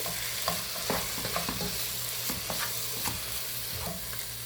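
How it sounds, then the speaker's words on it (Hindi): A crushed potato filling for puff pastry is mixed with salt in a pan, giving a continuous soft sizzle under repeated short scraping and pressing strokes from a spoon, close and steady. "अब इसमें हम थोड़ा सा नमक डालेंगे और इसको अच्छे से मिक्स करेंगे।"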